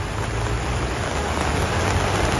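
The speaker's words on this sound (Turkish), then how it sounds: "Gece vakit saatlerinde etkili olan ve 45 dakika süren sağanak yağış sonrası bazı yollar göle döndü." A heavy night-time downpour lasting 45 minutes hisses as a dense, continuous roar of rain, with no talk over it.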